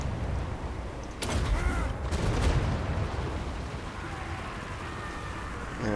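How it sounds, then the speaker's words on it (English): Gyrocopters making a bombing pass in Total War: Warhammer, a sudden burst of crackling fire and impacts over a constant rumbling battlefield wash, then a dense rain-like patter of distant shots. "So we're going to bring our gyrocopters over here on the side and do a bombing pass."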